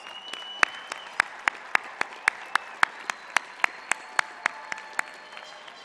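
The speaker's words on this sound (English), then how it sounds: "Let's give them a big round of applause." Clapping at a university graduate commencement ceremony: sharp, evenly spaced claps ring out in a steady rhythm, clearly separated against a quiet background rather than a dense crowd roar.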